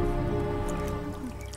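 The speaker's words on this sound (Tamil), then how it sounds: "எதுக்கு தலையில தண்ணி தெளிக்கிறா?" Water is sprinkled onto someone's head before a ritual head shave, making soft, close drips and a wet squish over a steady tonal backing.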